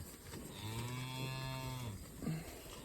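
Cattle in a pasture give one long, low moo, followed by a short second moo at the end, moderately distant over faint outdoor background.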